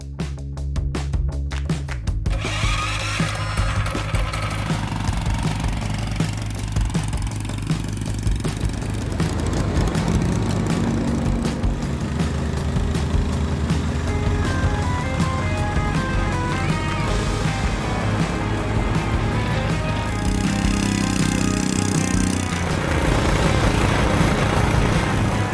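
A Mega Moto 212 mini bike with a stage 1 kit runs continuously under a rider, its small engine buzzing loudly and steadily with shifts in pitch as it revs, close and without speech.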